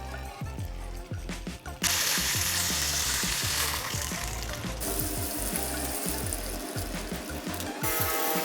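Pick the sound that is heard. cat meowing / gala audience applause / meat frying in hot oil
meat frying in hot oil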